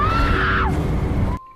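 A demonic scream from a possessed girl in the horror film Veronica, a loud, harsh, sustained shriek that bends downward and then cuts off abruptly, with no talk over it.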